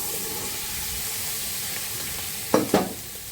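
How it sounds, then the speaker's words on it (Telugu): Boiled chickpeas seasoned with turmeric and ground pepper frying in a pan give a steady, close hiss and sizzle, then two quick stirring scrapes near the end, with no voices. "ఉడకబెట్టుకున్న గుగ్గిళ్ళు వేసేస్తున్నాను."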